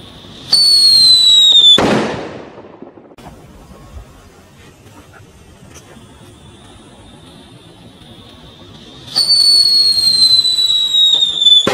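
A Super Kaget jumbo firecracker bursts with a sharp, loud bang, preceded and followed by bright whistling fireworks nearby, with a quieter stretch of crackling in between; no one speaks.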